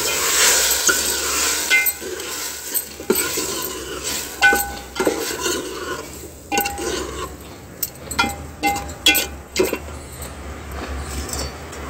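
Chopped vegetables frying in a cooked masala gravy in a pan, a soft sizzle under repeated clinks and scrapes of a spoon stirring against the metal, no talking.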